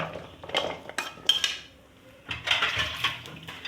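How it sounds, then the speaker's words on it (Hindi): Dry chickpeas for chaat tipped into a bowl, giving a close clatter of hard pieces against the dish in two bursts with a short pause between, no voices. "चलिए बस सबसे पहले बॉल में डालेंगे चने"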